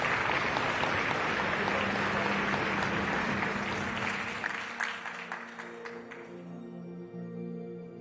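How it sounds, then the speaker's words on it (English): Warm audience applause at the COP28 climate action summit session, a broad wash of clapping that fades after about five seconds, giving way to a few scattered claps and a low tonal hum. "let's please give the Industrial Transition Accelerator partners a very, very warm round of applause."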